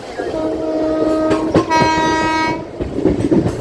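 A MEMU passenger train enters Danapur Junction at speed, its horn sounding loudly over the rumble and clatter of wheels on track, heard from on board.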